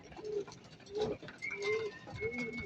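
A racing pigeon coos softly several times in a low, rounded rhythm, fairly close, with a few faint higher chirps from other birds in the background.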